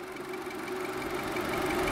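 A 2014 Nissan Juke 1.6 N-Tec with a 1.6 litre four-cylinder engine running at a steady idle, an even mechanical hum with a light ticking texture that swells slightly, close by and without voices.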